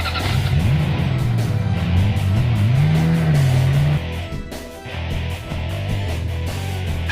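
Remote control off-road toy car with hollow soft tires and shock-absorber suspension driving hard, its electric motor whining loudly and rising and falling in pitch, then easing briefly before speeding up again, close and steady.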